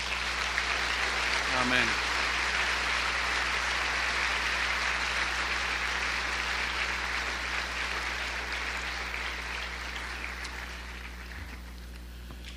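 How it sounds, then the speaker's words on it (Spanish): A church congregation applauds, a sustained hiss-like wash of many hands clapping that slowly thins and fades toward the end, with a brief spoken voice early on. "Dele un aplauso al Señor."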